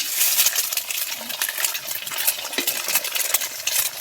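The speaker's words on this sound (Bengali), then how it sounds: "এবারে এই তেলের মধ্যেই দিয়ে দেবো ডিমটা" An egg hits hot oil in a pan just after eggplant was fried in it, giving a busy, close crackling sizzle with scraping stir sounds throughout.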